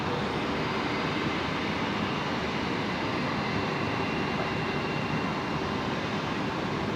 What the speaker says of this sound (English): There it is, the 777.